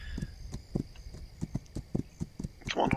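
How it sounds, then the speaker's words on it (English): Horse hooves in the video game This Land Is My Land clip-clop in a steady, fairly close rhythm of distinct thuds, with a brief louder vocal burst right at the end. "Come on, horse, climb."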